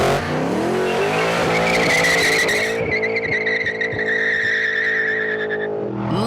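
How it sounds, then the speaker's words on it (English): A big gurgling V8 car engine roars close by with strong revs and harmonic pitch sweeps, tires squealing briefly as the car accelerates hard. "This car has one of the world's great engines, a big, gurgling V8 with huge torque and an even huger thirst"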